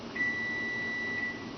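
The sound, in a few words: kitchen timer beeping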